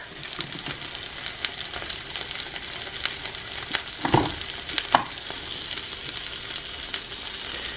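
Chicken wings sizzle on a Dash mini griddle, a soft continuous frying crackle with scattered pops and a couple of brief clicks, no talking.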